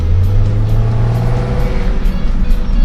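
A 2007 Audi TT Quattro Mk2 with a six-cylinder engine pulls hard under acceleration, a loud, close, steady drone that rises in pitch and holds throughout, with no talking over it.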